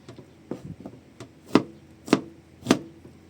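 Knife chopping vegetables such as onion and cabbage on a board, a handful of irregular thuds with three loud, clear chops near the end, close and alone.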